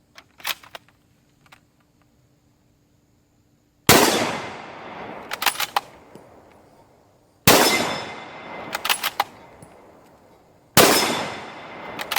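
Three loud, sharp rifle shots from an M1917 at a shooting range, each with a long echoing tail, separated by pauses and followed by brief mechanical clicks of the action.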